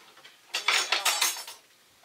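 Bowls and dishes clink and clatter while tomato soup is dished up, a quick cluster of bright, close knocks and chinks lasting about a second, then fading, with no talk.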